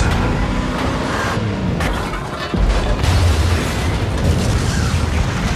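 A deep explosion-like boom with rumbling, noisy bursts, loud and sustained, with a sharp low thud midway.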